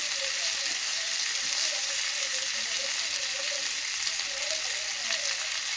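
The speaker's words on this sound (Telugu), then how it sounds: "రెండు చింతరెక్కలు, లో ఫ్లేమ్లో మంచిగా ఫ్రై చేసుకోవాలండి" Two pieces of tamarind fry on a low flame for a tomato-onion chutney, giving a continuous, even sizzle with faint crackles and light stirring and a voice in the background.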